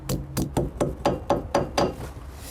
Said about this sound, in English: place them in the hole, and just gently hammer them in